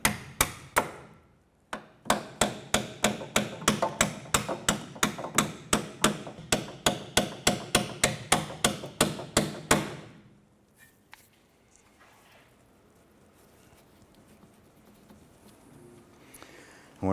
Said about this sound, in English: we're going to go ahead and use our hammer, and we're going to go ahead and tap these strut bolts out of the knuckle